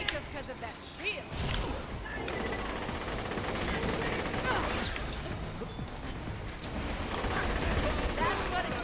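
Chaotic gunfire in a video game firefight, dense overlapping shots and crackling impacts at steady loudness, mixed with talking voices.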